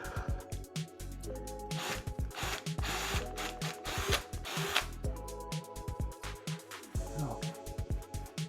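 A keyless-chuck drill set to hammer drill mode runs in short repeated bursts, its rapid rattling impacts forming a rhythmic, fairly loud mechanical clatter with brief pauses between runs.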